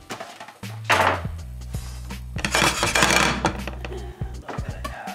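Leftover potatoes tossed into a heated pan, with clattering thumps of pieces landing against metal followed by a rising sizzle, close and moderately loud over a low steady hum.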